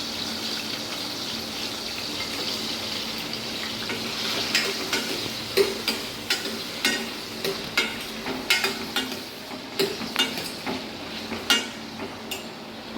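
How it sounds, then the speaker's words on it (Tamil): Chopped onion and green chilies fry in oil for potato kurma, a continuous hissing sizzle overlaid by repeated rhythmic scrapes and taps of a spoon stirring in the pan, growing more frequent toward the end, with no talking. "பொடி பொடியாக ஒரு பெரிய வெங்காயம் மட்டும் சேர்த்துக்கிட்டேங்க."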